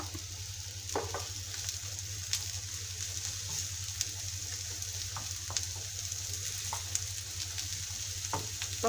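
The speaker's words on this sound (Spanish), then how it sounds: "Yo tengo ya el aceite puesto y ahora le vamos a añadir la cebollita y los ajitos." Onion and garlic sizzle and fry in hot oil, a steady close crackle with occasional sharper pops and stirring sounds, no voices over it.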